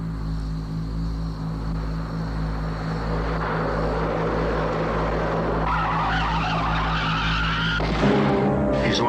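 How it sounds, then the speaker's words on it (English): A loud vehicle roar with a rising screech of skidding tires, ending in a sudden sharp burst as a tire blows out and the sound breaks off, in the 1981 film Blow Out. "that's what I heard just before the tire blew out"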